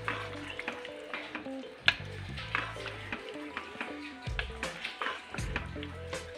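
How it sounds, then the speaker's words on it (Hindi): Potatoes tipped into a bubbling mutton curry and stirred, giving soft sizzling under a string of spoon taps, scrapes and wet squelches at an irregular pace, all close and fairly quiet. "अब हम इन आलूओं को ऐड कर लेंगे"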